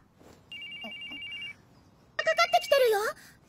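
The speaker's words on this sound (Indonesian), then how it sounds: "Lalu tiba-tiba telepon dari Mitsuki berbunyi" A mobile phone rings in an isekai anime, first a steady electronic tone held for about a second, then a louder, quick melodic ringtone phrase after a short pause.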